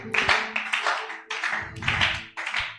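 A church congregation claps in praise of the Lord, several loud rhythmic bursts of hand claps with short gaps between them.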